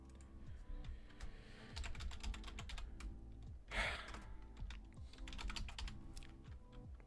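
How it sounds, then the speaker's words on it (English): Steady typing on a computer keyboard during game development work, a fast run of close, crisp key clicks with brief pauses and one louder burst midway, no voices. "I have to get better at typing without looking at the keyboard"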